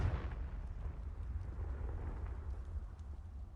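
A Confringo spell explosion in a Hogwarts video game: a deep, rumbling blast that opens with a burst and then settles into a sustained low roar, faint and distant.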